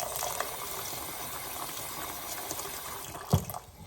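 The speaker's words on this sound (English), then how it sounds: "I'm going to put some water in here." Water pours steadily into a pot, a continuous close splashing flow that ends with a brief clunk.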